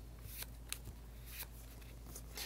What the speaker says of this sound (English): I'm going to go ahead and shuffle because I'm at the end of my draw.